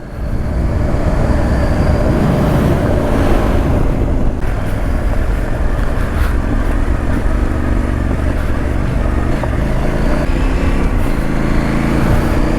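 A CF Moto 800MT motorcycle rides along a short gravel road, its engine droning loud and steady up close alongside rumbling road noise, with no voices.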